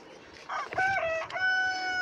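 Rooster crowing close by among chickens in a rural yard, one loud drawn-out cock-a-doodle-doo rising and holding over faint background clucking.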